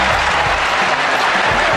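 Basketball arena crowd at a Milwaukee Bucks game roaring with cheers and applause, a loud, dense wall of sound with a commentator's voice faintly underneath.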